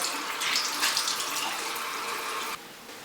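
Tap water runs into a sink as a face is rinsed, a close, steady splashing gush with uneven splatters that drops off sharply near the end.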